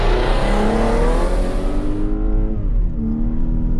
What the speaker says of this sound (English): let's see how it handles a foot to the floor throttle application on a slippery road